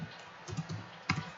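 A few soft, quick key taps on a computer keyboard while code is entered, faint and close, with a slightly firmer pair of strokes near the end and no talking.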